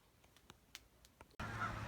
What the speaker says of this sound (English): I hope you can see the Canada geese that are behind me.